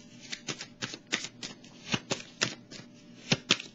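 Tarot cards are shuffled and drawn by hand, giving a close, quiet series of sharp riffling snaps and flicks in an irregular rhythm, with no talk.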